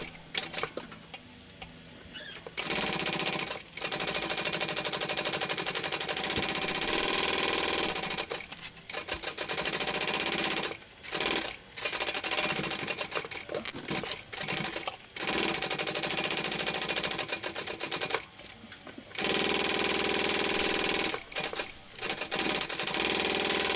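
A sewing machine bastes fabric onto the front of a small crossbody bag, running in quick rapid stitching bursts separated by short pauses, close and fairly quiet.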